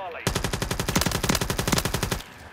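Rapid automatic gunfire in the video game Call of Duty: Modern Warfare 3, a loud, close, unbroken burst of about two seconds with evenly spaced shots.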